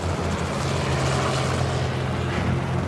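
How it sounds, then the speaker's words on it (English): Helicopter flying over the bush during a giraffe capture, with a steady, loud rotor and engine drone and a constant low hum, no voices present. "The helicopter's going to go and find the next giraffe just so it can be ready."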